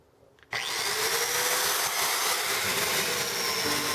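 An angle grinder fitted with a brass wire cup brush scours heavily rusted steel wheel rims, kicking in abruptly after a brief quiet start and then holding a loud, steady, harsh scraping whine close by.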